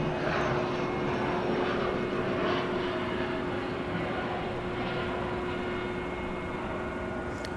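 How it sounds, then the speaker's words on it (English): A Frontier Airbus A320 jet arriving at night at DFW Airport makes a loud continuous engine roar with a steady whine, holding constant throughout. "It's Frontier Airbus A320, arriving from the Mile High City, flight 4464."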